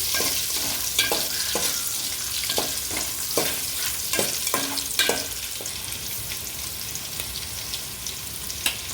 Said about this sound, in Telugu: కట్ చేసుకున్న పెద్ద సైజు ఉల్లిపాయ ముక్కలు అయితే వేసాను. ఇప్పుడు వీటిని అయితే బాగా వేయించుకోవాలండి